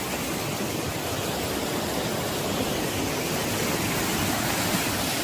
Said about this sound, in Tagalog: At ito na ang waterfalls.